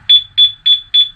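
A Yamaha Aerox 155 scooter's anti-theft alarm sounds after the bike is tapped, giving four loud, evenly spaced electronic beeps close to the microphone.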